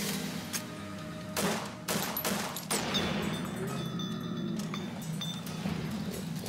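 Gunfire in the video game Fallout: New Vegas, a few sharp shots and crackling bursts over a steady low hum, with faint metallic clinks in between.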